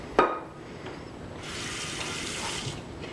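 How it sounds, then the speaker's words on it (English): Water from a tap runs into a large pot after a short clink, a steady hissing stream lasting for several seconds before tapering, quiet and close in a kitchen. "take this large pot and fill it with water"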